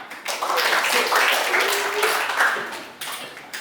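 Applause from a classroom audience, a steady wash of many hands clapping at moderate loudness that fades briefly and picks up again, with some voices mixed in.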